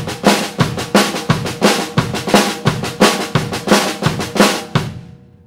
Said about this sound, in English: Example one is what I call a straight ride train beat,